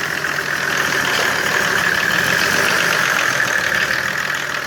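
A Mercedes OM606 turbo diesel engine idling steadily with a rough, knocking clatter, loud and close, unchanging throughout.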